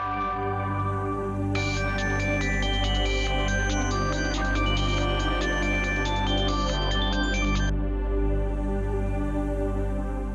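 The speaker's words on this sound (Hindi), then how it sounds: "ये तो रानिया का फोन लगता है, देखता हूँ किसका है।" A phone rings indoors with a bright, repeating electronic ringtone melody that plays steadily for about six seconds over a low background hum, then stops; no one speaks.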